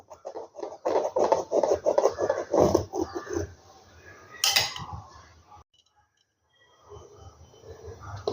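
A knife cuts through a pomelo being prepared for juice, giving close, repeated crunching and scraping strokes with clattering on a hard surface, then a short pause before quieter handling noises.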